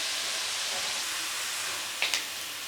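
Moong dal frying in hot oil for nimko: a steady, even bubbling hiss throughout, close up, with a couple of brief clinks near the end.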